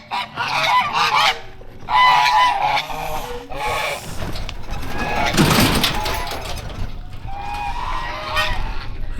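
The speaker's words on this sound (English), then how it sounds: "Look at that thing, man. Holy shit. I'm not fucking with those geese" Loud, close honking from several geese in rural China in overlapping bursts, with harsh calls and a brief rustling scuffle midway.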